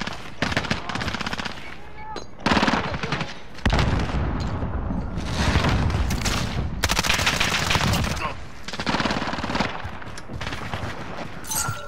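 Dense, sustained automatic gunfire with bursts and heavy impacts from a first-person shooter game, loud and nearly continuous throughout, with occasional game voice callouts mixed in.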